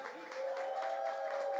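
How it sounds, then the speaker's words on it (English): Brief applause from an audience at a beauty business event, a short burst of many hands clapping with a steady tone droning underneath. "So let's give them a big round of applause."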